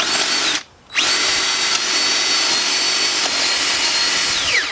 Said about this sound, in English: put a starter hole in there